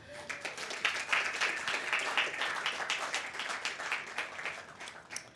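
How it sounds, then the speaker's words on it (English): A crowd applauds at a city groundbreaking ceremony, a dense, even patter of many hands clapping sustained throughout, fairly distant and moderate in volume. "let's give them a round of applause"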